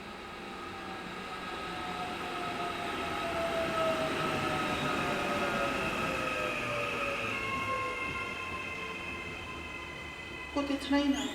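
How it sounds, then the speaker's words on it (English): An electric train on a New Zealand line passes at a new station, its traction motors giving a rising and falling whine over steady wheel rumble. The sound swells to a peak midway, then fades, and a few clunks follow near the end. "you might recognise the sound of these traction motors"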